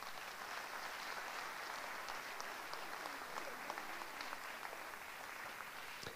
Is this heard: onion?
no